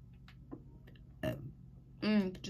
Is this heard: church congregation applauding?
no